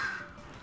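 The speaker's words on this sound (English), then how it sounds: "Ah, birds." A single short bird caw from the Mega Man X video game, heard alone and fairly close with no talk over it.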